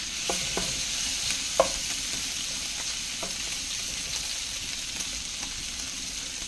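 Chicken zoodle carbonara sizzles steadily in a very large pan over a very hot burner, a constant loud frying hiss with a few sharp pops and the occasional stirring scrape.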